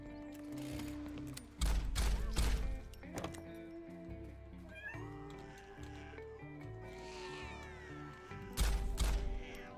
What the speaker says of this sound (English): Look at all these fucking cats